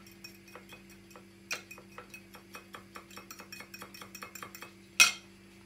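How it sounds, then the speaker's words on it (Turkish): A spoon stirs a lump-free mixture in a bowl, giving a steady run of light, rhythmic clinks against the sides that ends in one sharper, louder knock. "Şöyle topçuk olmadan karıştırıyorum"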